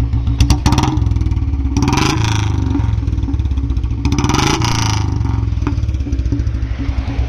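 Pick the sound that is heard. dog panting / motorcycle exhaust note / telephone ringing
motorcycle exhaust note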